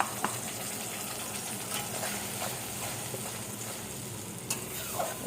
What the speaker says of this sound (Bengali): এটা একটু ভাজা হতে দেবো।